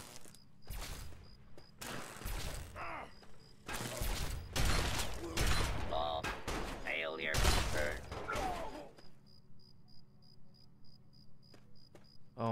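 Gunfire in the video game Fallout 3: several sharp bursts of shots at irregular intervals, mixed with and partly under a voice talking over the game.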